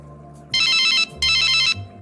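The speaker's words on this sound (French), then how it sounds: "J'appelle Madame Martin, pour qu'elle vienne et on les confronte" A telephone rings on an outgoing call, two loud electronic ring bursts close together with a short gap between them, with no talking.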